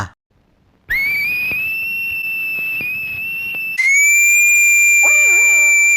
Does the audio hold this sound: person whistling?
yes